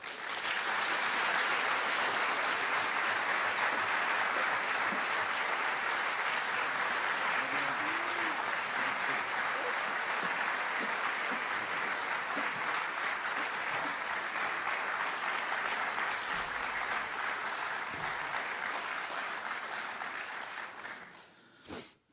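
An audience welcoming Christopher Hitchens breaks into sustained, loud applause, a dense wash of clapping that holds steady for about twenty seconds before fading quickly at the end.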